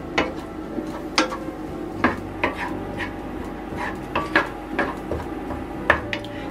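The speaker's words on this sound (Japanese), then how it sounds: "弱火にして20分間このまま炒めていこうと思います" Onions stir-fried in a pan over low heat for Japanese dry curry, a spatula knocking and scraping against the pan in irregular sharp clacks over a quiet background, no talk.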